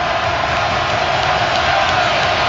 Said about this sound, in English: Crowd with some desperation up now, cheering on the Steelers